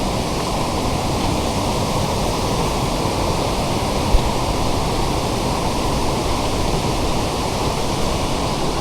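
Ranpat Ukshi waterfall in the Konkan, flowing beside the Konkan railway line, gives off a continuous, even roar of rushing water that stays steady and loud throughout, with no voices.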